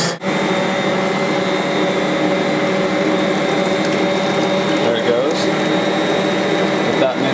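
An electric mixer creams banana bread batter, giving a loud, steady motor whir that runs without a break, while a voice talks over it.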